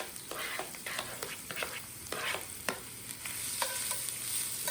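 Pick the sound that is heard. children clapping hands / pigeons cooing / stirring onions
stirring onions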